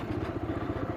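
A 2023 TVS Raider 125 motorcycle engine runs in fifth gear, a close, steady, throbbing mid-pitched drone with a slight clattery pulse and no talking.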